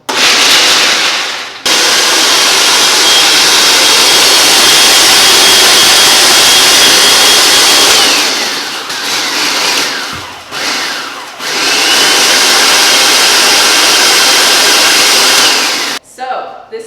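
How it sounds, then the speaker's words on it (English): A blender grinds cookie crumbs for a dirt pie, giving a loud, harsh whirring roar in several bursts with brief stops and dips between them. A voice is faintly audible around the pauses. "We got our dirt crumbs all blended up."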